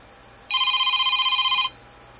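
A Republic Wireless beta phone sounds a single electronic ringing tone: a bright warbling trill that starts sharply, holds for just over a second and cuts off cleanly, heard alone over quiet background.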